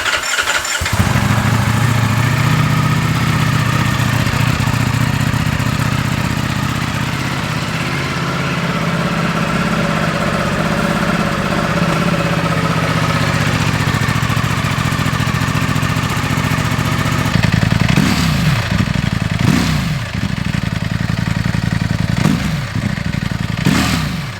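A Ducati Streetfighter V4 Lamborghini limited-edition motorcycle fires up and settles into a loud, steady, gruff idle, with a few sharp throttle blips near the end, recorded close by.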